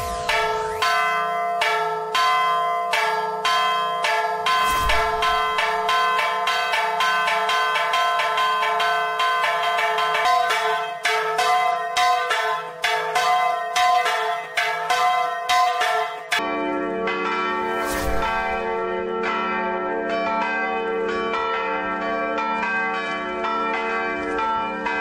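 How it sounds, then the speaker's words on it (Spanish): The historic Dolores church bell, symbol of Mexican independence, rings loud and close with repeated resonant strikes whose bright metallic overtones hang and overlap, then fade into one long sustained ring. "La campana de Dolores, como se llama comúnmente, es uno de los símbolos más emblemáticos de la independencia de México."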